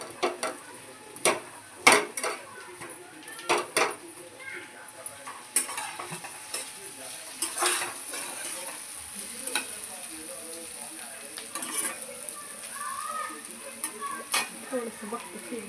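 Pizza base roasting on a hot iron tawa greased with ghee, giving a soft sizzle under a run of sharp scrapes and clinks of a spatula against the pan, with occasional quiet speech.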